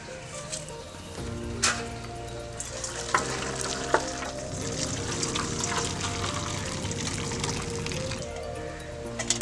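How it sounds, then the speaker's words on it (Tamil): Hot drumstick stem soup is poured and strained through a filter, giving a continuous close splashing, trickling pour with a few small knocks from the utensils, no talk. "இப்போ இதை வந்து ஃபில்டர் பண்ணிக்கலாம்."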